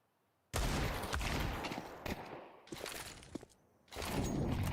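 AK-47 fire in Counter-Strike 2 during a competitive match, loud close bursts of rapid shots with glass-like crackle, split by a brief lull before another burst.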